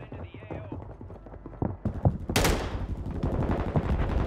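Call of Duty gunfire crackles in scattered shots and then a louder burst, with players talking over it throughout.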